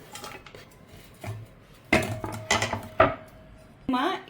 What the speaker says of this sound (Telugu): ఈ నిమ్మకాయ ముక్కలు కోసేసుకొని ఒక గిన్నెలో వేసేసుకోవాలి